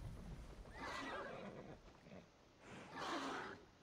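A horse whinnies twice in Assassin's Creed Valhalla, each neigh rising and shaking, heard fairly faint against a low, noisy background.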